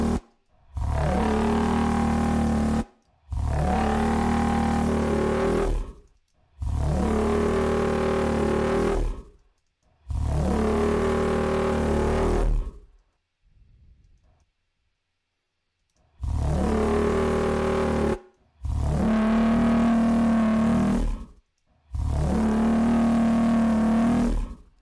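A gritty, heavily distorted synth bass made from a human voice plays in repeated sustained bursts of about two seconds each, separated by brief silences, loud and harmonically rich.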